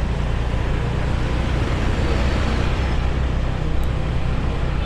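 A car drives along a road near Double Six Beach in Seminyak, Bali, with a steady broadband road and engine rumble holding constant throughout, no talk.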